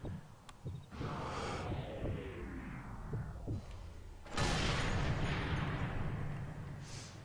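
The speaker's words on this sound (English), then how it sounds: "did that explosion go off right when it did?" Booming blasts from the Sniper Elite III video game, with a deep rumbling burst near the start and a second, louder explosion midway that roars and decays over several seconds.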